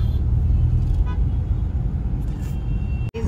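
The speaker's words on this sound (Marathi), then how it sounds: "ट्रॅफिक." Steady road traffic rumble heard from inside a moving car, a continuous low drone with a brief dropout near the end.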